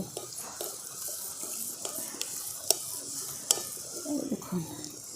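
Hot oil ladled and splashed over jalebi frying in a pan, heard as a steady bright sizzle with scattered sharp splashes and clinks of the ladle, a few louder spatters near the end, close and moderately loud.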